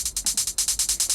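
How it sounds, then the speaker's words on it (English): A fast, dry hi-hat sample with no processing, ticking in a rapid, even stream of about a dozen crisp hits in just over a second, moderately quiet and alone. "The fast hat, basically with nothing on it."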